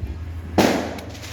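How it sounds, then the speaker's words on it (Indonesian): A single loud firecracker bang on New Year's Eve bursts close by partway through, its sharp crack trailing into a rumbling decay over a low steady hum, with no talk. "Ini bukti malam tahun baru guys. Udah ada petasan ya."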